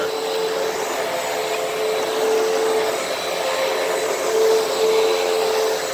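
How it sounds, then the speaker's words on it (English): A Hoover Windtunnel vacuum cleaner runs steadily and loudly, sucking up dirt and dead insects such as crickets and roaches, with a constant motor whine that swells slightly in places and no talking. "Vacuum that up."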